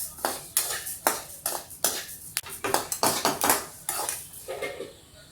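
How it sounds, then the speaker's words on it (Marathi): Coriander seeds being dry-roasted in a pan, stirred with a metal spoon that scrapes and clinks against the pan in a steady run of sharp strokes, heard close with no talk. "धने पण आपले असे चांगले भाजत आलेत"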